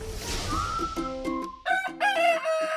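Roosters crow and chickens, including Orpington, Barred Rock and Rhode Island Red breeds, cluck in overlapping calls, fairly close and loud, with a busy barnyard clamor throughout.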